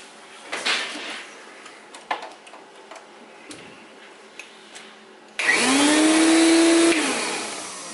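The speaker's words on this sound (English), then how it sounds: "the test rig is the vacuum itself. You can just plug that in." Compact Tristar vacuum cleaner, a C8, C9 or CXL Vantage model, switched on after a repair, with a loud steady motor whine rising and holding for a couple of seconds after scattered clicks and handling knocks.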